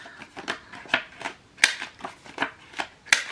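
Paper gift card wallet having its corners rounded, a series of short crisp snipping clicks in a steady rhythm, about a dozen cuts, close up with no talking.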